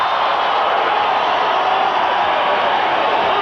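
A boxing crowd at a world super flyweight title fight cheers in the closing seconds, a dense, steady roar of many voices filling the arena throughout.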